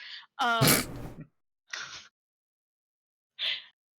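A single sneeze up close, a sharp breathy burst, followed by a couple of brief, softer exhaled noises.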